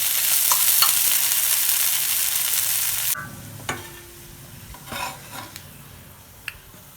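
Ragi adai, a finger-millet flatbread, cooks in oil on a pan: a loud, steady sizzle for about three seconds that abruptly drops to a faint crackle, with a few light scrapes and clinks.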